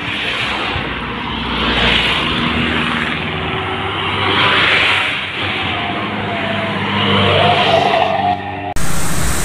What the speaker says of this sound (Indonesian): Kelihatannya truk tua, truk bodol.